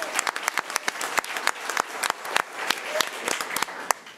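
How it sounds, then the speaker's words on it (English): Applause at a school board of education meeting for a Division I CIF 100 fly swim champion: a moderate crowd claps, individual claps standing out in an uneven, steady patter. "So let's give her a round of applause."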